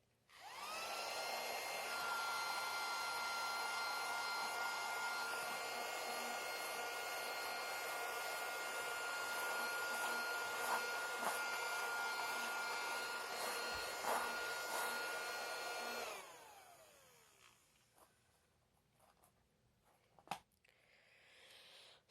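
The world's smallest vacuum cleaner, a tiny handheld fitted with a brush attachment, runs with a loud, steady high-pitched whine for about sixteen seconds, then winds down and stops, followed by a few faint clicks and knocks.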